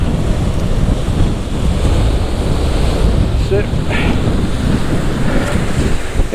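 Strong wind blows at the coast over breaking surf, a loud constant rushing roar with buffeting on the microphone that never lets up.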